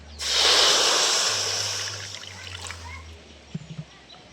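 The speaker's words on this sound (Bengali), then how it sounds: "কাসুন্দিটা বানানোর জন্য কড়ার মধ্যে আমি জল দিয়ে দিচ্ছি" Water poured from a height into an iron kadai in a home kitchen, a loud broad rushing pour that swells quickly then tapers off, with a low hum beneath and a few small clinks near the end.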